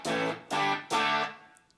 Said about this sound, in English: if you press this, you go through the crunch preset